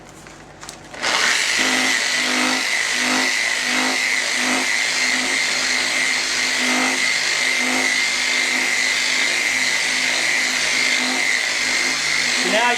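An orbital polishing machine buffs scratches out of car paint in a DIY garage, a loud steady whine that starts after a brief quieter moment and runs continuously with a pulsing rhythm.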